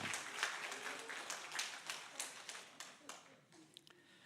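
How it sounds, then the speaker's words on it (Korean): A church congregation claps in encouragement during a Wednesday service, a fairly distant, moderate round of applause with individual claps audible, thinning out toward the end as a voice speaks briefly. "함께 한 번 더 박수로 격려해 주시기 바랍니다"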